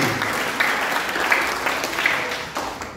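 A church congregation claps loudly for several seconds, a thick continuous wash of many hands with no voices standing out.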